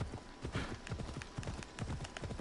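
A horse's hooves clip-clop in a quick, steady gallop rhythm in the video game Assassin's Creed Odyssey, close and continuous with no speech.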